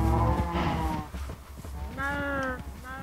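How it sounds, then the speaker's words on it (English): Cows mooing in the video game Minecraft on PS4: several drawn-out, nasal moos overlap close by, with a deep low moo at the start and higher moos later, with a player talking over them. "look at all the cows. How many cows I have? There's a lot of cows."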